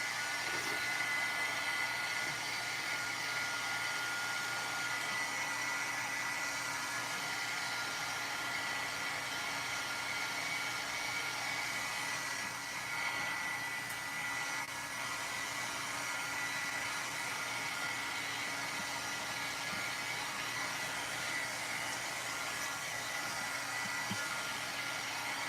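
A heat tool blowing to heat-set paint, a steady close whooshing hiss with a constant fan whine that runs unbroken and evenly loud the whole time.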